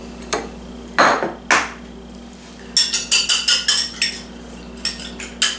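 A big whisk beats two eggs in a small bowl, making a quick series of sharp metallic clinks and taps against the bowl, some isolated and then a rapid cluster, close and clear without speech.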